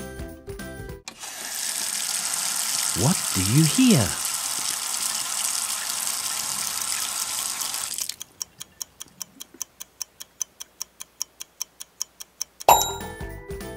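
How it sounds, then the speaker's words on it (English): A household faucet runs in a steady, loud rushing hiss for several seconds, with a voice speaking briefly over it, before it cuts off and a clock's regular ticking takes over. "It's a faucet."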